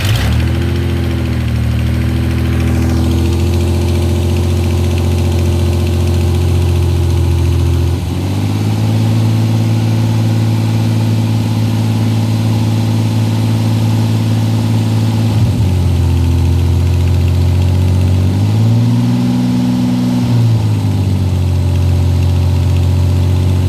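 Car engine idling right after a restart with a faulty throttle position sensor, a loud close steady drone whose pitch dips and swells a few times as the idle hunts.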